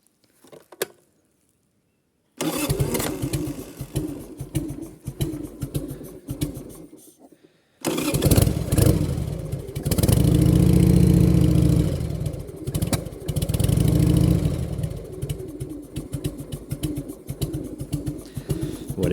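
A 2000 Harley-Davidson Sportster, cold and started with starter spray, cranks after a short silence, stalls briefly, then fires up and settles into a loud, close, lumpy idle with occasional blips of throttle.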